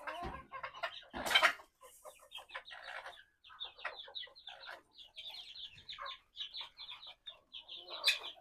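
Chickens cluck in short, scattered bursts while they are fed grain in the morning, with hens and young birds pecking together close by. One louder squawk comes early, and soft clucking continues throughout.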